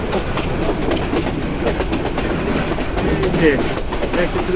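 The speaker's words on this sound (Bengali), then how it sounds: "এই যে ট্রেন এখন স্লো হয়ে গেল" The Balaka commuter train on Bangladesh Railway slows as it nears Tongi Junction, with a dense rumble and steady wheel clatter heard from inside the carriage and a brief faint squeal near the end.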